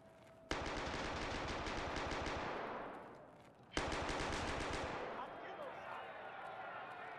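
SKS rifle fire in Escape From Tarkov Arena: two long bursts of rapid, loud shots, the first running about three seconds and fading, the second following after a short gap and trailing into quieter background.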